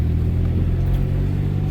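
A Subaru Justy's small engine pulls hard under acceleration from inside the car, a steady loud low rumble with a droning hum, no talk.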